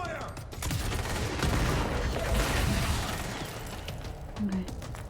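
Sustained volley of automatic weapons fire in the game Control, during the Foundation DLC, a dense, loud burst lasting a few seconds before tapering off.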